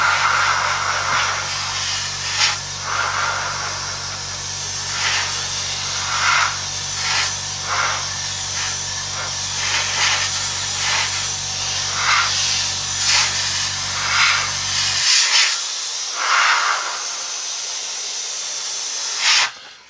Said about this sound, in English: Just going to spray some neat green